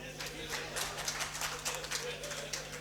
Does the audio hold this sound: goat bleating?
no